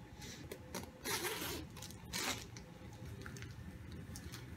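The zipper on a Lulu's Jet Setter weekender bag is pulled open in two close, raspy strokes, followed by softer handling sounds of the fabric bag.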